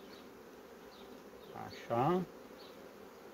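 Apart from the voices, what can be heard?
honey bees buzzing at a hive frame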